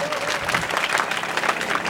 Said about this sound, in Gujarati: તાળીઓ પાડીશું વાલીઓ.